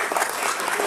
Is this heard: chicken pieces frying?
no